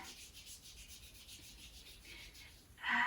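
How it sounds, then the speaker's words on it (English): A hand rubs slowly along the right arm in a self-massage during a wrist and shoulder flow, making a soft, steady, quiet swishing of skin that ends in a brief louder brush. "And then slowly rubbing that right arm here."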